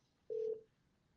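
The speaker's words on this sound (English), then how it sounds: "I'm going to proceed to call the phone number using my desk phone" A desk phone keypad gives one short, clear dialing tone, a single beep of about a quarter second, close and loud against quiet.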